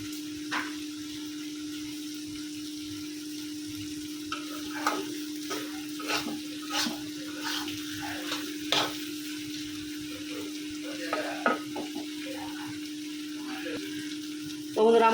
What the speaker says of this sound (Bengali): আস্তে আস্তে ভাজা ভাজা হইতেছে। এটা যত ভাজা হবে এই শুটকি বোনাটা তত ভালো লাগবে।